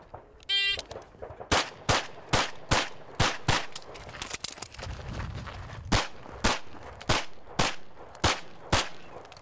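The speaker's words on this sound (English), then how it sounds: "now this time I have to shoot with my left hand, my non-strong hand" Pistol gunfire in a timed shooting drill fired with the weak left hand: a shot-timer beep starts it, then about sixteen sharp, loud shots come in quick, fairly even bursts with brief pauses, close by.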